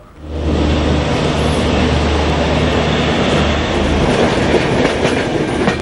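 A Shatabdi passenger train on Indian Railways runs steadily along the track, a loud continuous rumble with rhythmic wheel clatter throughout, close by and without voices.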